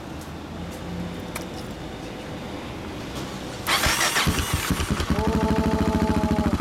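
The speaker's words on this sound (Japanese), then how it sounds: "エンジンを聞かせてもらえるかな" A 1990 Yamaha SRX400 single-cylinder motorcycle starts up partway through, its loud, close engine settling into a rapid, steady thumping idle with an aggressive aftermarket exhaust note, following a stretch of quiet background.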